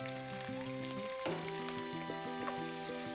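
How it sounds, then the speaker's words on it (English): Fresh ginger fries gently in a pan over a low flame, giving a steady, soft sizzle with faint crackles throughout while a tonal musical background plays underneath. "fry the ginger for about 2 minutes on low flame"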